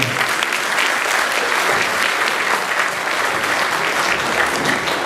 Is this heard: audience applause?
yes